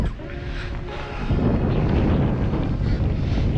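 Steady wind roars and buffets the microphone over the open ocean near the Ocean City, Maryland harbor while kayak fishing, a constant broadband rush that grows louder after the first second.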